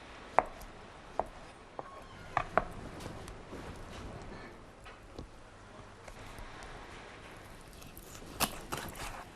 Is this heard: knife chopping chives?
yes